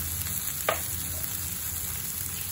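Mushroom and spinach curry with garlic and spices sizzles steadily in a pan, a soft continuous fry with one brief scrape of stirring partway through, no voices.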